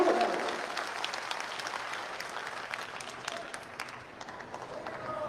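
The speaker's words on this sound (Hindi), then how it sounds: "जोरदार ताली सबकी तरफ होनी चाहिए" An audience at a Samrat Ashok Jayanti talk breaks into loud, dense applause that rises at once and stays thick and steady before slowly thinning out.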